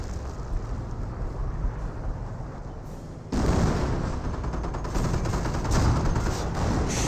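Artillery shells from a barrage thunder in a dense, rumbling roll during a Company of Heroes battle, growing louder midway and continuing as overlapping blasts.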